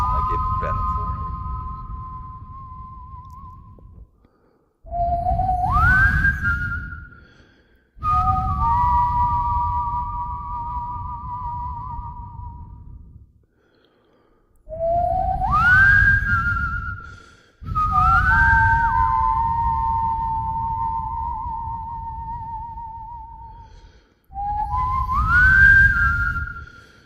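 A long two-tone whistle repeats in several separate sequences, each rising then holding a steady pitch over a low rumbling bed, with short silent gaps between bursts.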